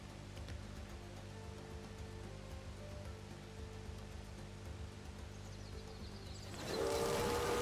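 A train rumbles through the Railway Empire video game, crossing the Andes, with a steady low drone that swells louder near the end.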